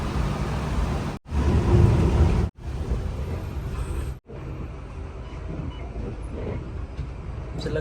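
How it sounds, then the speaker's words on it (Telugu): Heavy rain with thunderstorms pounds a BSR Travels bus on the highway from Hyderabad to Vizianagaram, a loud continuous roar broken by a few brief dropouts, with no talking. "వాన అయితే బీభత్సమైన వర్షం చాలా స్పీడ్ వస్తుంది"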